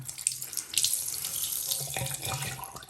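Dirty water running and splashing from a cloth wrung out during bonnet cleaning of car upholstery side panels and armrest, a steady close trickle with brief louder splashes.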